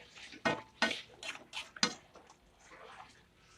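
A spoon scrapes and clinks against a pot while curry powder is stirred into chicken curry: several sharp metallic taps and scrapes, close and fairly faint, tapering into softer stirring.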